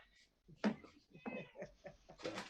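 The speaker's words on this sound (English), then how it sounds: "Got a cat trying to bust into the cat food." A house cat meows several times in short, close bursts with small knocks in between while it tries to break into its cat food.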